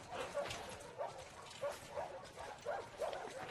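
Dogs in The Last of Us Part II yip, bark and whimper in a quick repeating series of short, fairly quiet calls over a low game-ambience background.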